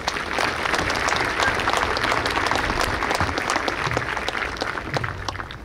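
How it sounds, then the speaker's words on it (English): An audience applauds the 82nd Airborne Division Band at a military graduation ceremony, a dense, steady round of clapping that fills the room at an even level with no talking over it. "Please give them a round of applause as well."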